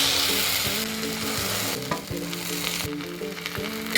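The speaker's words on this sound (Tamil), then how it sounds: "சேர்த்து எல்லாமே நல்லா மிக்ஸ் பண்ணிக்கலாம்." Cooked moong dal is stirred into roasted semolina in a hot pan for Chettinad ukkarai, a spoon scraping and clinking in repeated strokes over a low sizzle, close and without talk.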